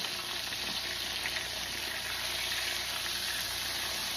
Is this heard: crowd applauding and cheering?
no